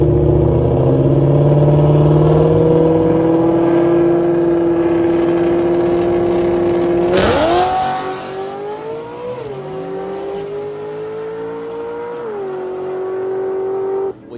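A Lazareth-built Cobra drag car with a new engine combination launches hard and nearly flips onto its rear bumper: a loud, sustained engine roar holds steady, then surges abruptly into a higher wailing rev that rises and falls, with no talking.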